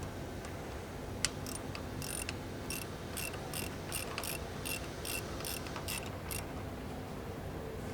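A wrench tightens bolts on a ProPride 3P hitch, producing an even, rapid series of close metallic clicks over several seconds with no talking.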